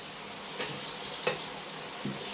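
Potato discs go into a frying pan of hot fat and give a soft, steady sizzle. A few faint clicks and taps of utensils sound against the pan.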